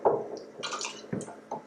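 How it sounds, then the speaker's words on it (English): Warm water with organic cane sugar gets stirred using a wooden spoon, giving soft, close sloshing and scraping swirls with a few small splashes over under two seconds. "I'm going to, with a wooden spoon, stir this together to get that sugar nice and dissolved in that water."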